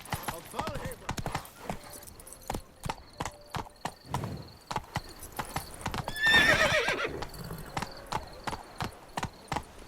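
Horse hooves clip-clop at a steady gallop in The Witcher 3, with a whinny partway through, loud and close over game music and occasional speech.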